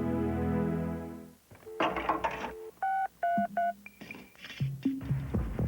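Touch-tone dialing on a US West Bell payphone: a handset dial tone hums, then a quick run of distinct keypad beeps follows, separated by short gaps and clicks, close and clear with no voices.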